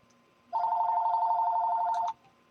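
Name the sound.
telephone ringing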